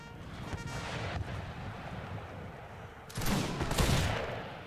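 Cannon and rifle volleys in a video game battle during the Mahdist Rebellion march on Cairo, a dense crackling fusillade of gunfire with a heavier burst of blasts near the end, loud and continuous with no talk.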